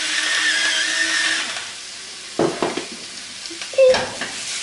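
Cucumbers added to finely diced onion in a pan, a soft steady sizzle at first that gives way to scattered clatters and scraping stirs, close and with no talk.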